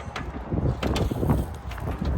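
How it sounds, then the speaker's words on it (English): Strong gusts buffet the microphone at a campsite in Fort Stockton, Texas, producing uneven, loud bursts of wind noise with no speech. "check out how windy it is outside"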